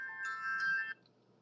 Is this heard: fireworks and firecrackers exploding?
no